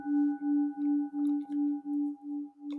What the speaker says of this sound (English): So I notice the sound of the bell